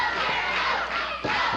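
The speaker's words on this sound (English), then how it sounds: "Crowd getting in behind the King." Fans at a pro wrestling tag match featuring Jerry Lawler roar loudly and continuously, a thick crowd din with a brief dip and a couple of sharp thuds or claps breaking through.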